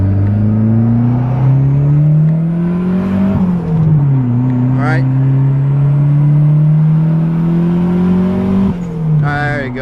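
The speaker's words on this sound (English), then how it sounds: "There are a bunch of cars coming." Several cars pass on a road outside a Mitsubishi Eclipse 2G. The car's own engine drones loud and close, rising and falling as it shifts, while whooshes of passing traffic go by and a voice briefly speaks.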